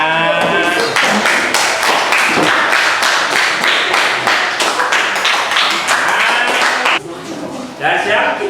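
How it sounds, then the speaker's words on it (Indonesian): Classroom audience clapping hands after a group presentation, a dense burst of sharp claps from many people lasting several seconds, loud and close, thinning near the end, with some voices mixed in. "Ya, tepuk tangan semuanya."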